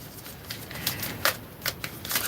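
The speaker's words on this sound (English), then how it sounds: "when I was just shuffling the cards" A deck of oracle cards being shuffled by hand, giving a steady papery riffle with scattered sharper snaps, close and moderately loud with no talking.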